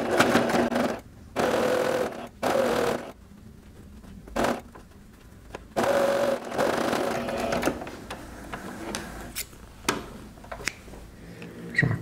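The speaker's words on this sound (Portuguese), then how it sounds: "Vamos começar com retrocesso, costurando exatamente pela marcação." A sewing machine sews a bath rug piece with backstitching along a marked line. It comes in short, close bursts of stitching separated by pauses, with a longer run in the middle.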